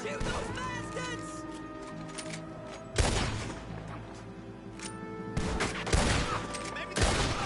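Gunfire crackles in a Red Dead Redemption 2 shootout: several sharp, loud bursts of shots at irregular intervals, mixed with shouting voices and galloping hooves.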